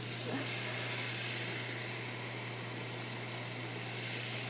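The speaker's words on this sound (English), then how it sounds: "As we hear that sizzle, that's a good sign." Steady, even sizzling hiss of bulgogi meat searing in a hot pan, continuous and close, with a low electrical hum underneath.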